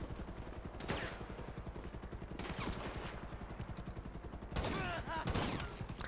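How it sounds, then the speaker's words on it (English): Rapid automatic gunfire in GTA 5 hammers a wall in steady bursts, loud and close, with a few sharper cracks and brief pauses between volleys. "I'm just shooting this wall"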